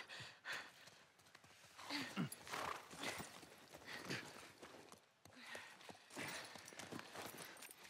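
Horse hooves clip-clop in The Last of Us game on PS5, faint and uneven, with heavy breathing and gasps around them and scuffling movement throughout.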